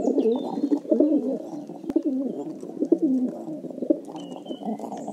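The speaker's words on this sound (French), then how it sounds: "Aujourd'hui, le pigeon biset." A rock pigeon in Paris coos close by in repeated soft, throaty rolling phrases, with faint chirps in the background.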